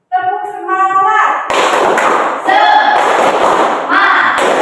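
A classroom of students performing tepuk semangat, the Indonesian spirit clap, in bursts of sharp rhythmic clapping, opened by a chanting voice and punctuated by shouted group calls between the claps.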